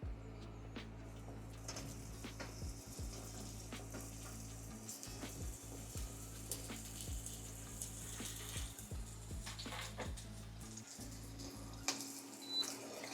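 Onions frying in a pan of melted fat over lowered heat, a steady low sizzle running throughout with scattered pops and clinks of stirring, fairly close and continuous.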